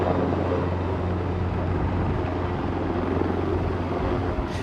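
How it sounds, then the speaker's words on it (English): A helicopter shuttling the injured in the Moroccan earthquake zone, a steady low rotor thrum and engine drone that holds constant for several seconds without speech. "The only quick way to get here is by helicopter."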